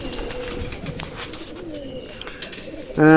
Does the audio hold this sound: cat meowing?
no